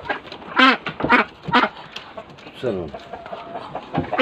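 Ducks quack in a few loud, nasal bursts close by, alternating with someone speaking briefly.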